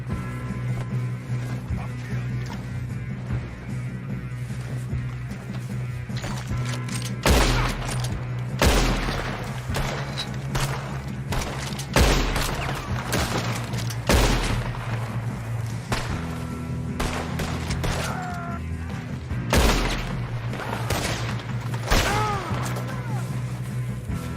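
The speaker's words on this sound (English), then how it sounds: "Shoot him! Shoot him!" Gunfire in the Red Dead Redemption 2 video game: repeated loud sharp shots and bursts crack out at irregular intervals over a steady low droning background.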